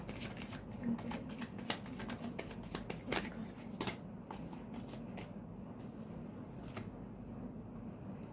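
Tarot cards being shuffled by hand, a close series of crisp riffling flutters and soft slaps repeating in quick bursts, fairly quiet and mostly alone.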